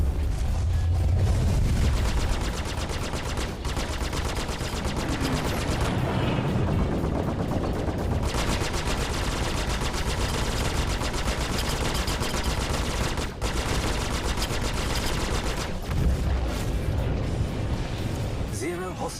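Heavy, continuous weapons fire from the Panther guns on an Aegis Sabre fighter in Star Citizen, a loud sustained rattling barrage with brief gaps, mixed with other game sounds.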